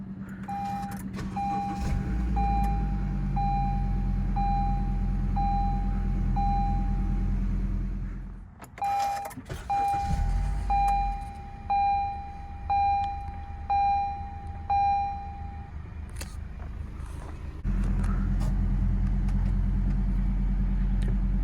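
A 2013 Acura ILX's 2.4-liter engine settles into a steady, close idle, a low hum joined by a repeating electronic chime, with a short thump and clatter partway through before the drone carries on.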